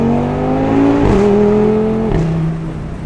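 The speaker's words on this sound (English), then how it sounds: "When you downshift this car, coolest thing, downshift, give it a little bit of gas, and it does this crazy, I want to say it's like anti-lag maybe" Tuned Audi RS3 downshifting with a throttle blip, its engine note dropping in steady harmonic steps as sharp anti-lag-style exhaust pops crackle in between, loud and close throughout.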